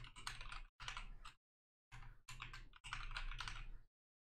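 Close, quiet typing on a computer keyboard in rapid bursts of keystrokes separated by short pauses, entering a password with no talk over it.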